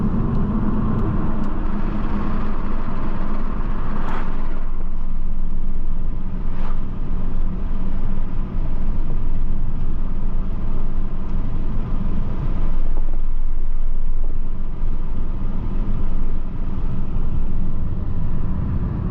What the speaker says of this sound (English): I would get this mod because the wind buffeting in this car is absolutely